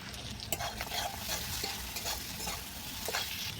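Roti pieces frying and being stirred in a pan with turmeric, cumin and coriander powder for a fish roe recipe, giving a steady close sizzle with scraping strokes of a spatula throughout.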